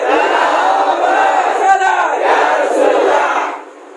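A large religious gathering shouts the Nara-e-Takbeer slogan back in unison, a loud, dense wall of voices that swells for about three seconds and then fades.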